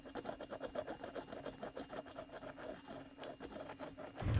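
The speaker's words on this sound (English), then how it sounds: "use the wheel to planish right now" An English wheel planishing a weld on a handmade steel fender, a quiet continuous rolling hum and rub with steady pulses as the panel passes back and forth close by.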